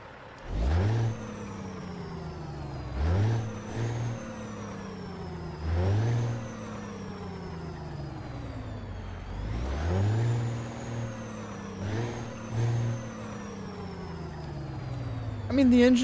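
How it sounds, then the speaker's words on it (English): A Cat C3406A diesel truck engine in American Truck Simulator rumbles at idle and revs up in repeated surges, with each rise falling back, and a hiss like an air brake near the end. "we're running a Cat C3406A engine"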